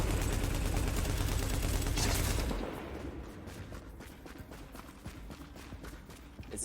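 Rapid turret gunfire in The Division rattles loudly for a couple of seconds, then continues as thinner, scattered shots and impacts further off.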